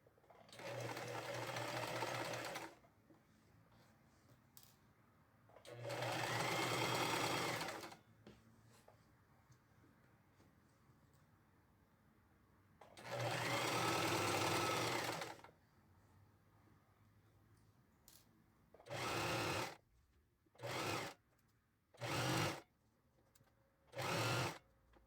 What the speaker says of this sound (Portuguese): agora eu vou pegar o forro e encostar ele, o avesso do forro com o avesso aqui da pala, dessa forma. Vou colocar certinho ali e vou costurar aqui de fora a fora.